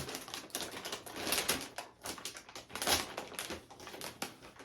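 A sealed, never-opened Gigabyte 4070 Ti Eagle OC graphics card box being opened, tape tearing and cardboard crinkling in bursts of crackly, rustling handling noise close to the microphone, with no talking.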